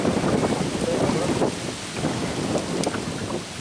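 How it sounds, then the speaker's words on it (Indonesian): Steady wind buffeting a microphone outdoors by a river before a storm, a continuous rough rumble with gusts that ease slightly partway through. "Anginnya angin mas bro, kayaknya mau hujan deras ya mas bro."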